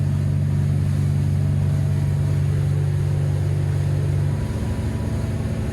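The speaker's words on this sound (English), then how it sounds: "Look how well balanced those engines are as well." Cranchi M44 HT motor yacht engines cruising at 3,000 RPM give a loud, steady drone that shifts in tone near the end, heard close with no talking.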